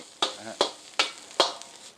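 Four sharp metallic scrapes at an even pace over a faint sizzle, like a spatula tossing crab fried rice in a hot wok over high heat.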